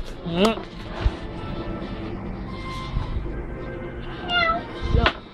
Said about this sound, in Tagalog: Ayun na yung pusa.